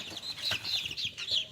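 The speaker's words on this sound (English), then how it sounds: "That's our chicken coop right now." Chickens clucking softly in a backyard coop with a few chicks, a steady run of short, high, fairly faint calls repeating throughout, with no voices.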